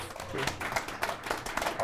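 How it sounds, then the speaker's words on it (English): Studio audience applause after an interview game, a quick flurry of scattered handclaps from a small crowd, with voices talking underneath. "Can you give them a round of applause?"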